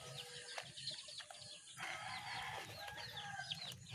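Chickens clucking and calling in a rural yard, several birds in short overlapping bursts, fairly faint and close together throughout, with a low rustling background.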